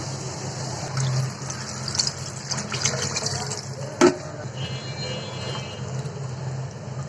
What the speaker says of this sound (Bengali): আমি এখন জল দিব ডাঁটাটা সিদ্ধ হওয়ার জন্য।